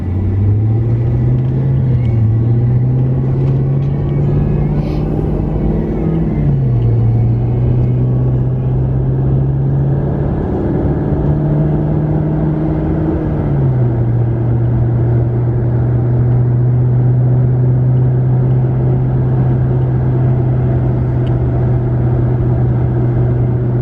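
A car drives on a mountain road near Gatlinburg, held to the speed limit, its steady engine drone and road rumble continuous and loud, with the engine note shifting pitch a couple of times as it changes speed.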